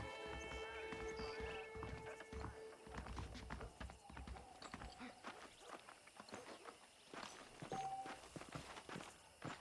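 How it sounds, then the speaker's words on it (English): Saddled horses in the Western video game Red Dead Redemption clop along with a steady rhythm of hooves on dirt, joined by a brief whinny, as voices talk over the game ambience. "The horses are saddled up over here."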